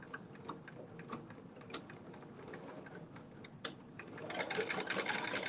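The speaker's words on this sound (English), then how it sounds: "I am doing my edge stitch, creating this casing" A sewing machine with an edge foot runs continuously while edge stitching a casing on a dress bodice, a close, steady rapid ticking whir that grows a little louder toward the end.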